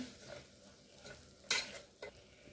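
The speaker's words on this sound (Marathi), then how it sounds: "आता यामध्ये हे वाटीभर मटार घालूया, मिक्स करून घेऊया।" Green peas stirred into tomato masala in a pan, a quiet sizzle under a few scraping spoon strokes, with two sharper clatters near the end, close by and without talk.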